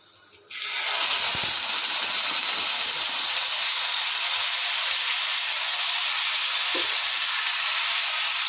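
Boiled water lily stems hit a hot oiled pan and erupt into a loud, sudden sizzle that settles into a steady close hiss of frying, with faint stirring clatter beneath.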